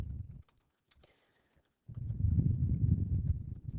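Data is being typed on a computer keyboard with quick, light key clicks. Scattered taps come first, then a short pause, then a steadier run of close keystrokes over some room noise.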